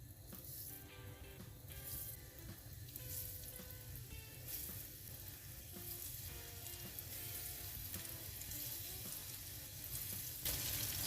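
Mushrooms fry in hot sunflower oil with a steady, fairly quiet sizzle and crackle, the hiss thickening slightly toward the end.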